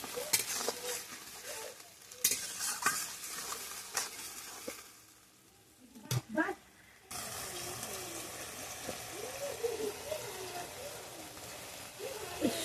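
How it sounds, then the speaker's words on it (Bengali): Onions and tripe with ginger and garlic paste sautéing and being stirred in a pan, a steady sizzle broken by scraping stir strokes, with a brief quieter gap midway before the frying resumes loudly. "আদা পেস্ট ও রসুন পেস্ট দিয়ে এখন ভালো করে মশলাটা কষানো হচ্ছে।"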